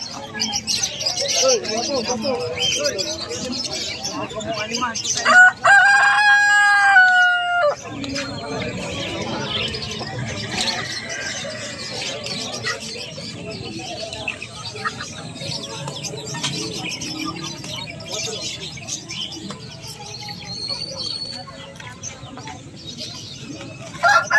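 Bantam chickens at a busy market in San Carlos, Pangasinan, with a loud nearby rooster crow lasting a couple of seconds, followed by scattered clucking against a constant background of crowd chatter and voices.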